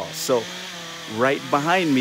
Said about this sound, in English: That's the sound of a chainsaw.